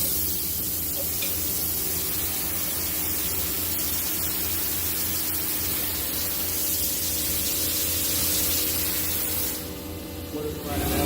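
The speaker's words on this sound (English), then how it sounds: "We're going to run the sub spindle." Okuma Captain L370-MW CNC turning center with its sub spindle running: a steady, loud mechanical hum with spray-like hiss and tonal whine, continuous throughout, rising into a brighter hiss near the end.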